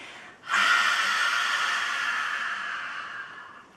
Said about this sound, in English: So we'll start by breathing out the mouth all the way.